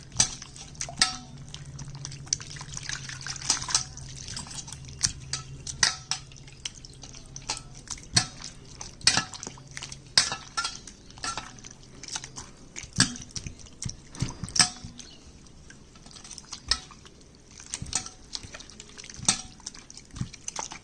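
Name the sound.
rinsing food with water in a pot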